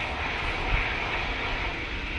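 An EasyJet airliner takes off at Manchester Airport on a windy day, a steady, broad engine roar held at a constant level at some distance, with no talk over it.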